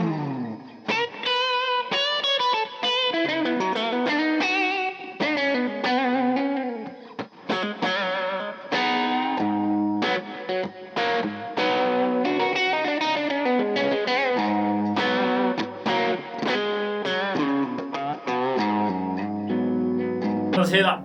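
A Joe Bonamassa Gibson Custom Les Paul electric guitar, neck and bridge pickups together through an amp with light overdrive, plays a busy run of single notes and bends for about twenty seconds, loud and up close.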